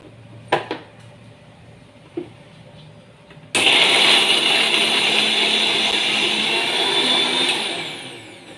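A mixer grinder roars into a loud steady whir as it grinds wet coconut together with rice. Quiet kitchen clinks come first, then the motor starts abruptly and holds its even grinding noise before easing off at the end.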